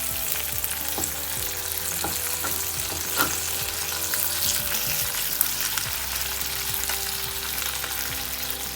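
Bacon strips sizzle and crackle steadily in a hot frying pan during an English breakfast, a continuous close frying hiss with small pops throughout and no voices.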